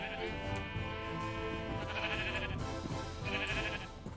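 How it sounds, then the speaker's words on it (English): Sheep bleat in a video game, wavering nasal cries repeating close and loud, several overlapping calls in steady succession with no talking over them. "why are there sheep here?"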